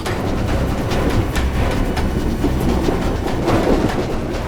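A train rolling along the rails, loud and close, with a continuous rumble and rhythmic clickety-clack of the wheels over the track joints, steady throughout with no voices.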